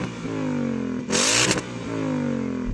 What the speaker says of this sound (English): Go on, rev up the V8.